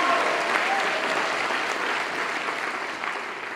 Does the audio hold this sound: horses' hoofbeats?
no